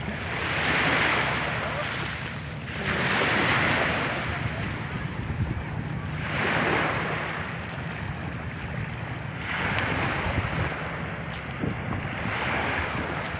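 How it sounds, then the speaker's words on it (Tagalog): Waves wash onto the shore in slow, regular surges, each swelling and fading under steady wind noise, with no voices. "Ang ganda ng dagat."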